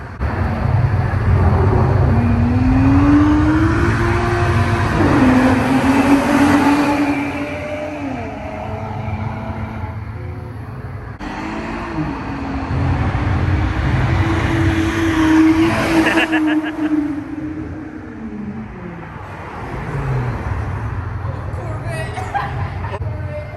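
A loud car engine roars and revs in a tunnel with a rumbling exhaust, rising and falling twice, with people talking faintly in the background.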